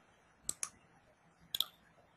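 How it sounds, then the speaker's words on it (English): A computer mouse clicks crisply during software work, two quick clicks followed by a pause and another close pair, quiet and near with no talk over them. "So I'm clicking OK."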